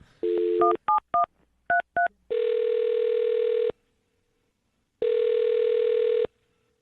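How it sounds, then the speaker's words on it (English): Telephone keypad tones beep in a quick series of short dual-tone presses, followed by two long ringback tones separated by silence, loud and clear on a line. "I'm going to dial her phone number right now"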